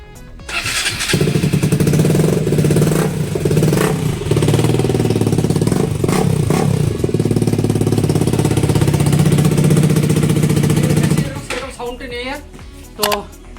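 KTM RC motorcycle with a dB killer fitted in its exhaust starts up and runs loudly at idle with a few throttle blips for about ten seconds before cutting off, followed by brief handling noises.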